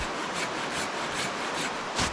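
Hand saw cutting through dry firewood at a winter camp, a steady rasping stroke that repeats about every half second, close and fairly loud with no talking.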